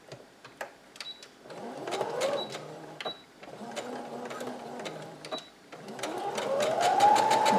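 Sewing machine running in bursts as it stitches the side seam of a tank top, whirring steadily with a mechanical rattle, pausing briefly between runs and speeding up toward the end.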